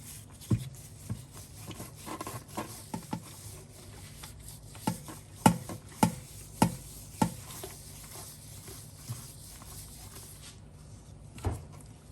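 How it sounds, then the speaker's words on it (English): Hands rub a canola oil rub onto a raw turkey, making close, soft, wet rubbing and patting sounds with scattered sharper slaps in an irregular rhythm. "I'm rubbing the turkey now. Look at that, just with using your hands."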